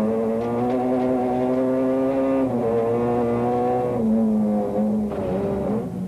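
Toyota rally car four-wheel drifting through a rally stage, engine note holding high and loud, then dropping in pitch as the throttle shifts, near and continuous.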